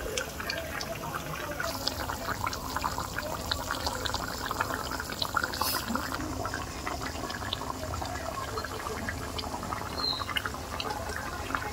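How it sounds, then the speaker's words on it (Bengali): Aloo dum, a vegetarian potato curry, bubbling in a pot, a continuous low simmering burble with faint liquid pops, steady throughout and heard alone. "এই যে দেখুন তরকারিটা ফুটছে, আলুর দমটা।"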